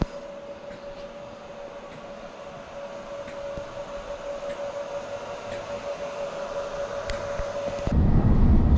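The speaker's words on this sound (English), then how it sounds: "So, we take the train back to Bristol Temple Meads." Passenger train on the Severn Beach Railway heard from on board, a steady rumble and rolling rattle with a sustained tonal whine, gradually growing louder before a sudden heavy roar near the end; no talking.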